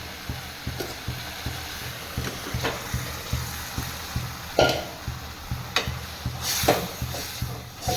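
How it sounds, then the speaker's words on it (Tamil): A spoon repeatedly scrapes and stirs cooked rice into a tamarind gravy in a pan, a rhythmic series of short scraping strokes over a soft sizzle, close and steady, with no talking. "நம்ம சாப்பாடு போட்டு கிளறிக்கலாம்."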